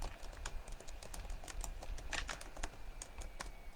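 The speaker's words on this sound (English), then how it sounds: "I'm typing in the title." Steady typing on a computer keyboard, a close run of quick key clicks with no pauses and no one speaking.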